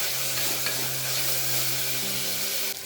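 Curry leaves sizzle in hot oil while being stirred, a loud continuous frying hiss close up with faint scraping of the spoon and no talking.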